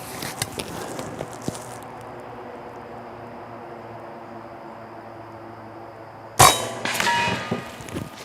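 A .25 caliber PCP air rifle shot striking a cinder block outdoors: after a quiet stretch, one sharp crack and impact smack with a brief ringing tail, loud and alone with no talking.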